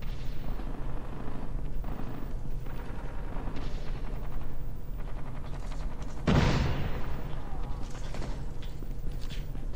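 Sniper gunfire in the mobile shooter game Call of Duty Mobile, with scattered shots through a quiet game soundscape and one sharp, louder crack near the end.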